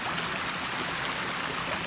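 Creek water runs steadily over a shale bottom, a continuous close rushing trickle with no pauses and no voices.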